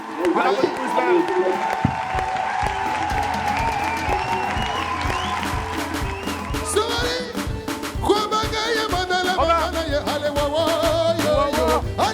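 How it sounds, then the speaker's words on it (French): A TV studio audience applauds and cheers during a live anniversary broadcast, loud sustained clapping mixed with music and a host talking over it. "On applaudit pour Ismaël"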